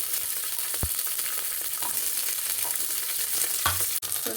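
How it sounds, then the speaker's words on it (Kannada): Mustard seeds and curry leaves sizzle and crackle steadily in hot oil, with a few sharp pops and faint clinks of a utensil against the pan. "ಸ್ವಲ್ಪ ಸಾಸಿವೆ ಕಾಳು ಹಾಕ್ತೀನಿ. ಅದನ್ನು ಸ್ವಲ್ಪ ಚಿಟಪಟ ಅನ್ನಲಿ."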